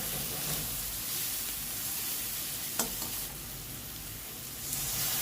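Spice masala with coriander and chili powder frying in a pan for arhar dal, a steady close sizzle with occasional stirring scrapes and no voices.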